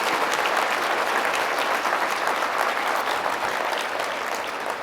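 A gala dinner audience applauds in a full, continuous wash of clapping that holds steady for several seconds and tapers only slightly at the end, with no voices over it.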